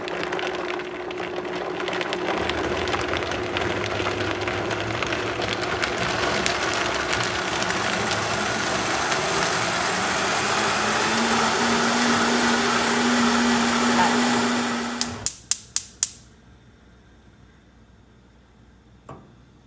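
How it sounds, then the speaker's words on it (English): A Vitamix blender whirs loud and steady as it blends a mac and cheese sauce, its pitch climbing while the speed is turned up gradually, then it shuts off with a few sharp clicks and falls quiet. "with a Vitamix, you need to turn the speed up gradually. So I flip it on."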